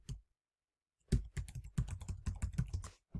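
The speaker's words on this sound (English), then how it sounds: "I'm just going to type in incredulous" Rapid keystrokes on a computer keyboard after a brief quiet pause, a quick burst of close, crisp clicks typing a single word.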